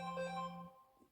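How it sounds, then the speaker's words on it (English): A mobile phone rings with a short, steady electronic tone that plays for under a second and then cuts off, leaving quiet room sound. "my husband's phone was going"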